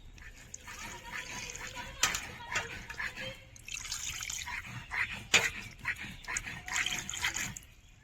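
Raw chicken for a potato chicken curry being rinsed under water, with steady splashing and trickling punctuated by a few sharper splashes and drips, close and fairly quiet.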